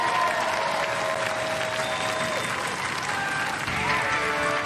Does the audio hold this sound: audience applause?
yes